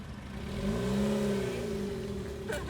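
A car pulls away from a red traffic light, its engine note rising steadily as it accelerates, a moderate mid-pitched hum heard from inside with no talking.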